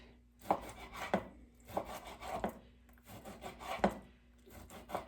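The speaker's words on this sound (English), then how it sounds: "I'm just going to cut them in cubes about that size." A knife cuts corned beef into cubes in a home kitchen, producing clear, close chopping knocks in irregular pairs and small bursts, with scraping between strokes and no talking.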